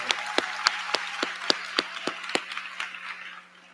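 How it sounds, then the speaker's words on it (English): Audience applause at a 2024 high school commencement ceremony in a large venue, a steady wash of many hands clapping with some sharper individual claps standing out, fading toward the end. "Graduates, let's give them all a round of applause for being here today."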